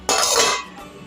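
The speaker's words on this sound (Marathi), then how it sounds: "आता या भातावर आपण थोडा वेळ झाकण घालून ठेवूया." A lid is set down on a pot of curd rice with a single bright metallic clatter that rings briefly and fades.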